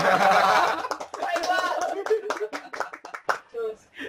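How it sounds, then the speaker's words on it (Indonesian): A small group in a radio studio claps in a brief flurry of hand claps, close and mixed with chatter and light laughter. "Tepuk tangan dong"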